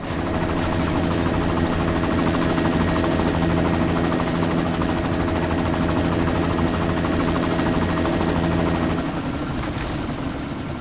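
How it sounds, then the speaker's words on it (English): A helicopter in a PS4 video game roars loudly and steadily throughout, its rotor chop constant, with faint gunfire-like texture mixed in and no talking. "You've got to stop that chopper."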